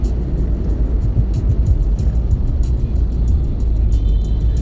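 Steady rumble of trucks and cars moving through the Bekasi Timur toll exit toward Jatimulya, a dense continuous low drone with no voices.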